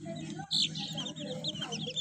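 Young chicks in a household coop chirp in quick, overlapping high peeps, close and continuous over a low steady background hum.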